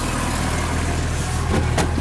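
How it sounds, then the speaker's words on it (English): A 1993 Jeep Wrangler project vehicle with no top idles steadily at around 800 RPM, a loud, close, even engine rumble throughout. "Idling perfectly at about 800 RPMs"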